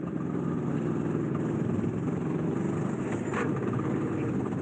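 Go-kart engine heard from onboard footage on a karting track, a steady, loud, continuous drone with a slight rise in pitch near the end, filling the whole clip with no talk over it.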